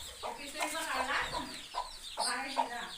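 Several hens in a coop cluck in short bursts close by, a busy overlapping chatter with brief pauses between calls.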